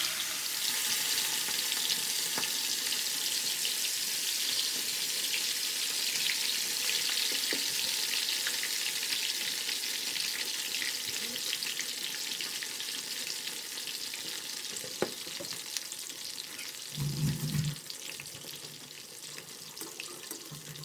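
Marinated prawns deep-fry in a kadai of hot oil for a restaurant-style Chinese prawn fry, a continuous bubbling hiss with a brief low thump near the end, no voices.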